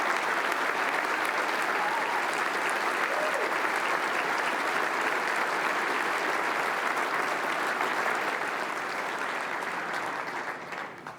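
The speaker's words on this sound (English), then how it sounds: "Please give them a round of applause." An audience at a provincial state address claps loudly and continuously for about ten seconds before the applause fades out, with no distinct voices.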